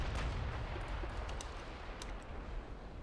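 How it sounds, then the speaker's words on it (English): An 11-inch naval gun on a cruiser fires in the naval warfare game Ultimate Admiral: Dreadnoughts, a deep rumbling boom that rolls on and slowly fades, heavy and muffled at close range. "Now this cruiser is still firing with its 11-inch, but only one of them"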